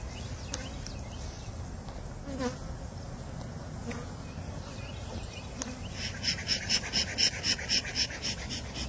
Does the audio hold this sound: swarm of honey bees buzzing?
yes